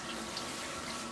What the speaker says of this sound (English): What you're hearing is the water from the bathroom upstairs.